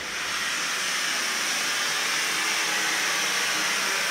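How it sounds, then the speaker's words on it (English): Steady, loud steam hiss from a leaking Kohler K9 steam generator under repair, a continuous broadband rush that holds even for the whole stretch with no talking. "definitely steam."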